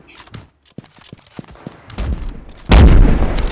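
Video game gunfire: a few scattered sharp shots and clicks, then a loud burst of rapid firing near the end, close and punchy.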